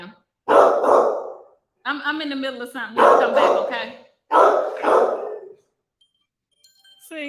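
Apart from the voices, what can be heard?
dog barking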